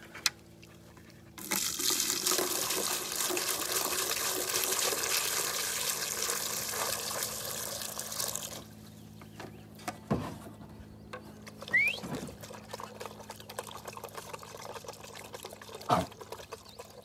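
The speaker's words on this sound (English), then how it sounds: "I'm gonna get them some water poured out" Water poured out for beagle dogs, a steady splashing stream lasting several seconds, then quieter scattered knocks and clatter afterward.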